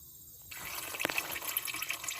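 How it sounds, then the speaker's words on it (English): Motor oil draining from a freshly spun-off filter on a Carrier Comfort Pro APU makes a steady liquid trickle and splatter close by. It starts after a short quiet moment and keeps running to the end. "So let me spin that filter off and get her draining."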